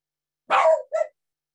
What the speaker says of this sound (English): my dog barks at the same time